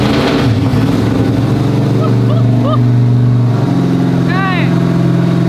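A Ferrari 458 engine, newly fitted with a carburetor, new ignition and F1 race headers, runs loud and close with a deep steady rumble while its pitch rises and falls, and voices talk over it.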